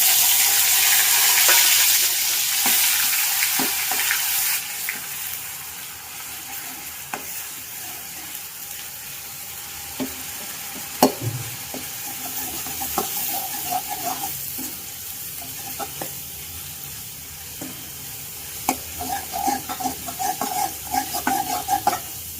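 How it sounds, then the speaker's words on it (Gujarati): Onion paste fries and sizzles in a pan for dum aloo, with a loud hiss that settles into a quieter sizzle broken by clinks and scrapes of stirring. "હવે આપણે ડુંગળીની પેસ્ટ નાખીએ."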